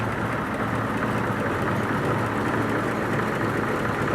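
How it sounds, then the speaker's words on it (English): A 1934 Packard V12 Club Sedan engine runs steadily at close range, a smooth continuous low rumble with no speech over it. "It's notorious for being a very powerful and very smooth engine."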